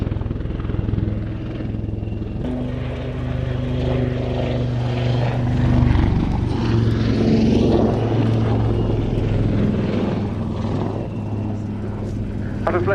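A warbird aircraft flying aerobatic spiral loops at an air display, its propeller engine droning steadily overhead and swelling as it pulls up, with a commentator talking over it.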